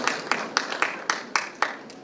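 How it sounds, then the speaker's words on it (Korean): At a seminar, an audience claps in a sparse, evenly spaced rhythm, about eight distinct hand claps in two seconds, fairly faint and with no talk over it. "박수 부탁드립니다."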